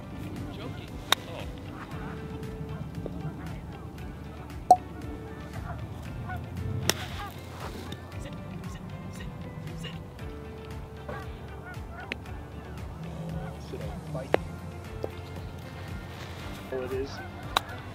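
Scattered honks from geese on a golf course, near and distant, mixed with people talking and occasional sharp knocks.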